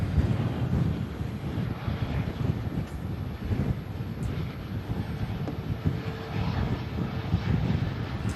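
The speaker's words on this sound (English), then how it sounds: "just under a 4-hour flight for that aircraft coming in from Istanbul" An aircraft lands at Manchester Airport in strong gusts after a flight from Istanbul, a continuous distant engine roar mixed with heavy wind buffeting the microphone, steady throughout with no talking.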